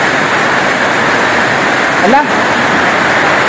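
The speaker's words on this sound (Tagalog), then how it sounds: "Sobrang lakas ng ulan" Heavy rain pouring down in a loud, constant hiss that fills the whole stretch, with a short voice cutting in briefly near the end.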